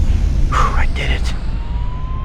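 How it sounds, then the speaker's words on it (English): Ambulance siren in the Spider-Man 2 video game on PS2, a brief wailing tone rising and falling in the middle of the clip over steady low background rumble. "It sounds like an ambulance is coming."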